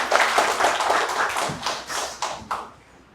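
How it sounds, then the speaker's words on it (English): Applause from an event audience welcoming a speaker to the stage, a few seconds of fairly close clapping that thins out into scattered, separate claps toward the end. "So let's all give him a big round of applause and invite him to the stage."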